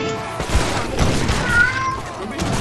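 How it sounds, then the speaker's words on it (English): A cat meows in a room, a faint, short tonal cry heard over busy strategy-game battle noise with booms and clatter. "I'm gonna remove the cat from my room."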